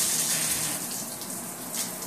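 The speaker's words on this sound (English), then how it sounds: "We'll turn the water on." Water runs from a Venice Speakman adjustable handheld shower head, a steady close hiss and splash with no pauses, continuous for about two seconds.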